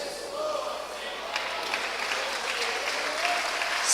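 A church congregation breaks into steady applause at a worship service, a dense continuous clatter of many hands that swells louder toward the end, with faint voices mixed underneath.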